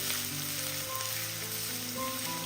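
Chopped garlic fries in hot oil while being stirred, producing a continuous bright sizzle close up with faint scraping, steady and unbroken, no voices.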